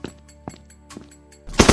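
Bursts of video game gunfire ring out in short spaced shots, then a loud rapid volley erupts at the end, close and sharp.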